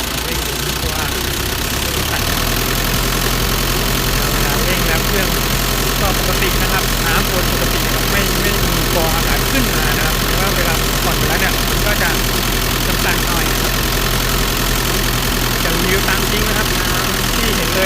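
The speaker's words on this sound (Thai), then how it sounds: "เดี๋ยวจะจะลองเร่งเครื่องให้ดูนะครับพอลองเร่งแล้วมันก็วนปกตินะ" Nissan Big-M pickup engine running at a steady idle after starting, a continuous close low rumble that holds throughout with some background noise.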